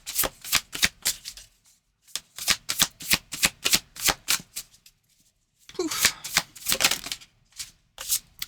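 Tarot cards are shuffled close by in quick, crisp riffling bursts, two long runs of rapid flicks separated by a brief silent pause.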